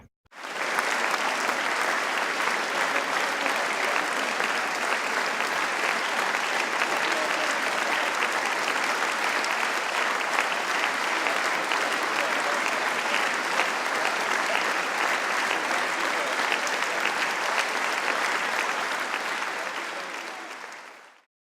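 Crowd at an Oxford University graduation ceremony applauds the new Doctors of Philosophy: sustained, even clapping from many hands that rises quickly, holds steady for about twenty seconds, then fades out.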